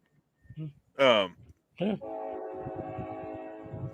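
Train horn sounding amid a passing train, with sustained layered horn tones after two brief bursts, fairly loud and close, over a steady rumble; voices briefly overlap.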